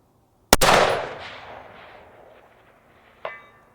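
A single loud, close rifle shot from a CMMG Endeavor AR10 chambered in 6.5 Creedmoor cracks and rolls away in a long decaying echo, followed about three seconds later by a faint distant metallic ring of the bullet striking a target.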